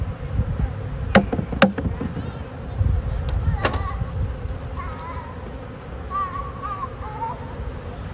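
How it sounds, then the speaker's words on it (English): A dense, low buzzing of a large honeybee swarm fills the air close by, with a few sharp clicks and faint chirps over the steady hum. "A lot of bees on this one."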